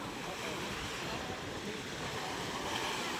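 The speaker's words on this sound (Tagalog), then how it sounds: "Medyo malakas ang ating dagat ngayong umaga." Rough morning sea at a fishport surges in a steady, dense roar of waves mixed with wind noise, loud and continuous.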